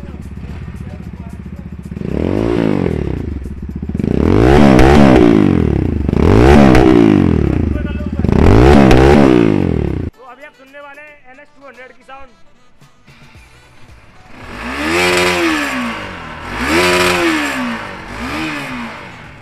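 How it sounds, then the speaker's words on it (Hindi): A motorcycle engine, an N250, revs hard in repeated surges, roaring up and dropping back, then idles quietly before two more loud revs; speech is heard throughout. "तो सबसे पहले मैं आपको सुनाने वाला हूँ N250 की साउंड।"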